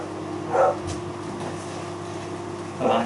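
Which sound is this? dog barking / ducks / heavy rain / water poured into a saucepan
dog barking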